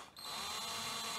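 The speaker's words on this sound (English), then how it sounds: "this week I have got a drill. Drill that works, guys." A power drill bores steadily through material during a WoodUBend craft demonstration, a loud close continuous whine that starts abruptly after a brief lead-in.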